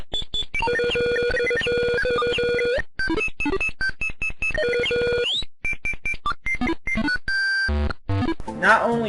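MS-DOS version of the Mario Teaches Typing video game, playing loud, rapid beeping computer tones in choppy melodic bursts with short gaps, close and continuous throughout.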